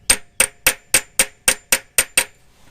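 An output shaft seal on a 4L80E transmission being driven into place with an improvised tool: nine sharp, loud metallic hammer strikes in a quick even rhythm, each ringing briefly.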